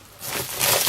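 A plastic bag crinkles and rustles as a parcel is unboxed, a brief, close burst of crackling handling that grows louder toward the end.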